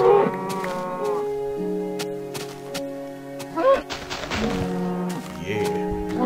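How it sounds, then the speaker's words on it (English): Several cows moo in Minecraft on the Xbox 360 Edition, a long series of drawn-out, overlapping calls, fairly loud and close, with a brief clatter partway through. "Oh god, that's a lot of cows."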